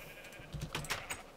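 Minecraft sheep bleat in a few short, nasal cries, one after another, close and alone during a mass sheep move.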